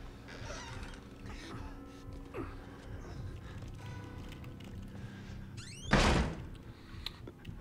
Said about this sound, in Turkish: Arkadaş pat diye kapatır mı o kapıyı ya?